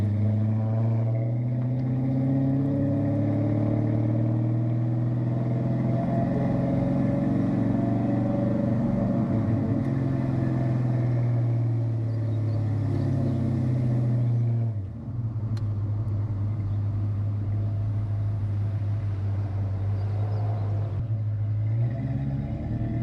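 A low-mileage 1994 Ford Mustang SVT Cobra driving, its V8 rumbling steadily from inside the cabin as revs rise and fall through gear changes, with a shift dip partway, no talking.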